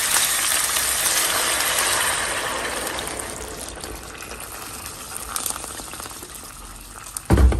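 Water boils in a pot with dried chiles, tomato, onion, oregano and cumin, a steady hissing bubble that fades slightly midway, with a brief clunk near the end.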